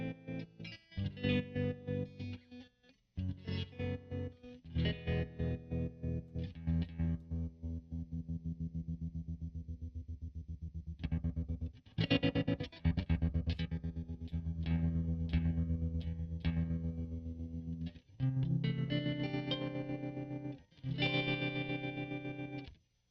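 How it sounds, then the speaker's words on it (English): Electric guitar played through a homemade reverb and tremolo pedal set to a square-wave opto tremolo, like a Deluxe Reverb amp, giving loud chords and notes that chop on and off in a steady rhythm, with brief pauses between phrases. "if we move to a square wave, it's more like what you would have in a deluxe reverb and the opto trem"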